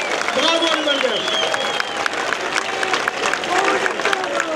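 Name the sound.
audience applauding the Malagasy players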